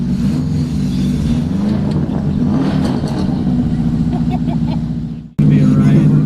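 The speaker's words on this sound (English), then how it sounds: "Hear that? That means we're in a rally car." Subaru Impreza WRX rally car built by Dirty Racing Products, heard from inside with a loud droning engine and a rising and falling rev, cutting off briefly before returning at full volume; voices talk over it.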